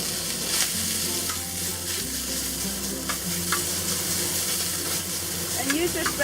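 Ground pork sizzles loudly in a hot oiled pan over medium-high heat, a dense continuous frying hiss with occasional scraping stirs and a faint voice nearby.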